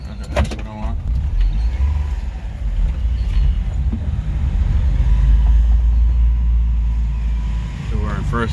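A Honda Acty Attack mini truck drives in first gear with a low, steady engine and road rumble from inside the cab. The drone swells slightly as the truck pulls ahead, and a voice talks briefly over it.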